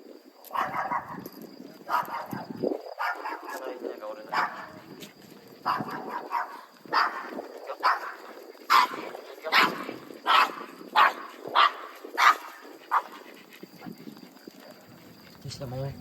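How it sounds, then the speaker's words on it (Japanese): A dog barks repeatedly at a distance, in irregular bursts that grow louder into a quick, steady run of barks midway before easing off. A person speaks faintly in the background. "決してももちゃんが吠えてることじゃないからね。"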